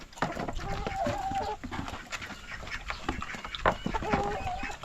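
Farm chickens cluck repeatedly nearby in busy, uneven bursts, with a few longer drawn-out calls and a faint voice underneath.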